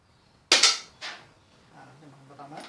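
A pump air rifle fires its first shot, a single sharp crack followed by a short echo, then someone speaks quietly afterward.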